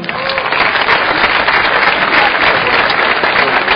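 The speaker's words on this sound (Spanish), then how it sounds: "Un aplauso, por favor." Loud, sustained applause fills a youth forum hall as a federal deputy is introduced, an even, unbroken roar of many hands clapping throughout.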